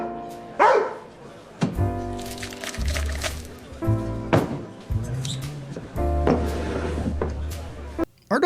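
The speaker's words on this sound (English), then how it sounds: "Our dog did a double bark, not a single bark like we specified" A dog in an AI-generated bar scene gives a double bark, short sharp yaps heard over busy background music and voices.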